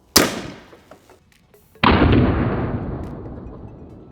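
Shotgun loaded with rubber-bullet rounds fires twice into plasticine and pork fat, each blast a sharp loud crack with a long decaying echo, spaced about a second and a half apart.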